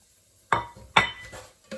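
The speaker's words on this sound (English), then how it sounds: "I'm going to pop the garlic in. Give that a little stir and add all the other spices." A utensil clinks against a cooking pot while garlic and spices are stirred into frying onions for a five-bean chilli: two sharp metallic knocks close together, then a fainter tap.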